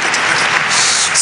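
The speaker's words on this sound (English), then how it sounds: "Give the Lord a big clap as you take your seat." A church congregation breaks into dense, loud clapping during a service, a brief burst of many hands together with no voices above it.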